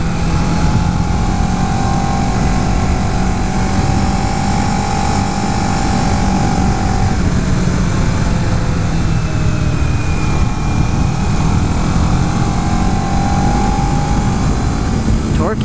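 A 2011 Kawasaki Ninja 650 motorcycle being ridden, its engine droning steadily with continuous wind rush for the whole stretch, loud and close, with brief shifts in engine pitch.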